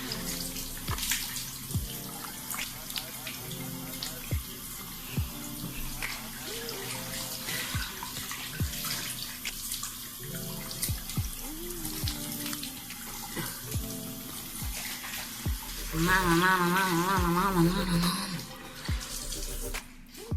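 Cold tap water running into a bathroom sink while a face is washed, a steady close splashing stream with small drips and handling splashes, growing louder and fuller near the end.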